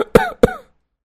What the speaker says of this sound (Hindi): इन्हें खांसी आ रही है